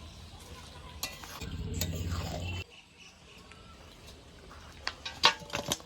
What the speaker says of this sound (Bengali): এবার গরম মশলা দিয়ে নেড়ে চেড়ে ধনে পাতা দিয়ে নামিয়ে নেব।